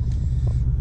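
Ford Mustang GT engine in track mode, a steady low rumble holding evenly through a short stretch with no talk over it.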